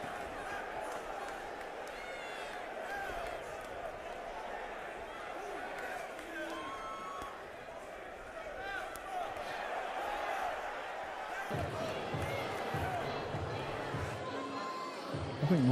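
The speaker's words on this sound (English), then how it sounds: "A crowd are on their feet. People are just applauding, they're cheering." Arena crowd at a heavyweight boxing bout applauding and cheering steadily, a dense roar of claps and shouts that swells toward the end, with a voice talking over it.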